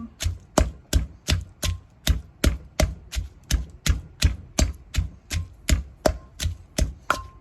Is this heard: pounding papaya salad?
yes